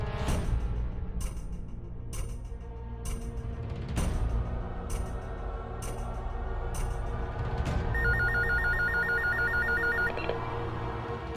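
A phone rings repeatedly indoors, a series of evenly spaced bell-like trills followed by a faster electronic ringtone pattern, clear and moderately loud over a low background hum with no talking.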